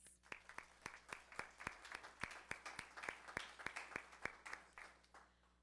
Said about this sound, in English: So we'll go ahead and give them a round of applause.